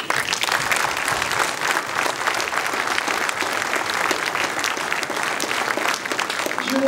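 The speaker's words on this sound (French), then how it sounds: "je propose qu'on redouble d'applaudissements pour eux" An audience at a town's 2024 New Year's address in Prats de Mollo La Preste claps in a sustained, loud burst of applause that holds steady throughout.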